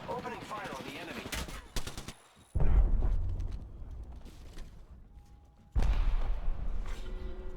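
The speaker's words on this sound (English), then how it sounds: "Opening fire on the enemy." Video game gunfire comes in rapid automatic bursts, loud and close, with a sharp cluster near the start and heavy volleys returning after brief quieter gaps filled with mechanical clanks and in-game sounds.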